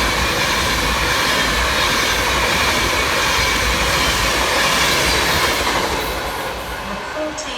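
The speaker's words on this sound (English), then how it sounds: "Passing fast through the station from Avanti West Coast is 390-046, working 1 Mike 12 from Glasgow Central through to London Euston." An Avanti West Coast Class 390 Pendolino passes fast through Crewe station, a loud, sustained rushing roar of wheels and rails that holds steady before easing slightly at the end.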